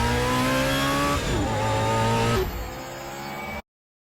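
High-revving race car engines in a film scene roar and whine like Formula One or IndyCar cars, pitch shifting as they pass, then the sound cuts off abruptly to silence.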